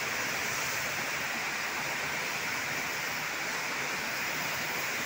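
Second large vat of liquid tobacco, around 400 to 500 litres, boiling hard over an industrial diesel burner, giving a steady, dense rushing and bubbling roar that stays even throughout, no talking.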